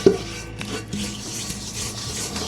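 Oil being rubbed and spread around a baking pan by hand for coco bread, a soft steady rubbing and scraping that runs close and continuous, with a small knock at the start.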